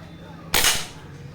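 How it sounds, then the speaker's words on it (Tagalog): A single sharp PCP air rifle shot with Meteor pellets and a Manlapat barrel cracks out, short and fairly loud, with a quick fading tail against a quiet hum. "Another 10 shots using Meteor Pellets."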